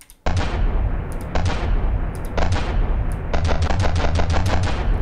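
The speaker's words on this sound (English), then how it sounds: "we have a sound that I call the bullwhip" Loud, sharp cracking blasts from an advanced cannon in the game From The Depths fire in rapid irregular bursts, booming and snapping like a heavy cannon or a whip crack, with no talking.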